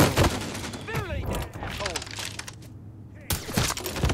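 Shotgun blasts in the video game Mafia 3: several sharp, loud gunshot bursts at the start and again near the end, with a voice talking in between over ongoing game noise.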